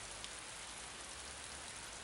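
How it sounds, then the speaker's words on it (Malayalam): Heavy rain pours in a steady, even hiss, quiet and continuous with no voices over it. "നല്ല മഴയല്ലേ?"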